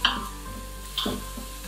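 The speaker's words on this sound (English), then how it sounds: "So we're just gonna saute this for a couple minutes" Onion and garlic sauté in an Instant Pot, giving a short, soft sizzle with a couple of brief stirring scrapes over a steady low hum.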